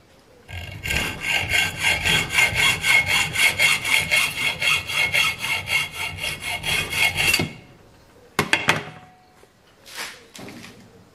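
A cutting tool saws through a metal P clip for a car in steady, rapid back-and-forth strokes for about seven seconds, then stops, followed by a few sharp knocks and clatters.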